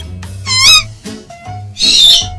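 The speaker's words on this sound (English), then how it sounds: "An owl is a type of bird." An owl calls twice in a children's learning animation, two distinct, bright, warbling hoots separated by a short gap, with a soft low background bed and no speech.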